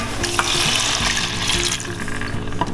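Red wine is poured into a saucepan of butter and softened shallots, setting off loud, close sizzling and bubbling that crackles continuously with a steady liquid hiss.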